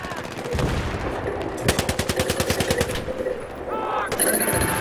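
Rapid bursts of machine gun fire crackle in a Battlefield shooter, with a long even stream of shots in the middle and a voice speaking around them.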